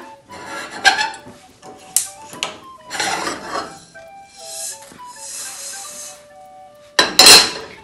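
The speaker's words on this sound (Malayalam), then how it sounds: "ഇത് ഞാൻ ഈ താലിയുടെ പ്ലേറ്റിലേക്ക് ഇട്ട് കൊടുക്കുവാണ്" Roasted coriander seeds poured onto a metal thali plate, giving scattered rattling patters and a few bright metallic clinks, close and intermittent, ending in one sharp clatter.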